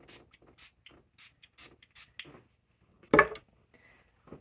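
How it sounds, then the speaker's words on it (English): Soft rustling and light scratches lead into a short, sharp burst from a spray bottle misting rosewater onto hair near the end, close and fairly loud against a quiet background. "So I'll just spray it around."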